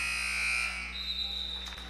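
End-of-quarter buzzer at a varsity girls' basketball game, a steady electronic tone sounding loud and sustained across the whole moment with gym noise underneath.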